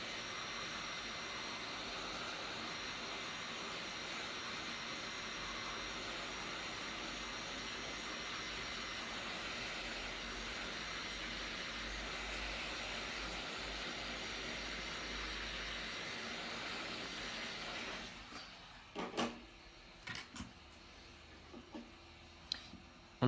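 A heat gun warms the top of a Samsung S5 Neo screen with a steady, even blowing hiss for about eighteen seconds, then cuts off and leaves a few faint knocks and handling taps.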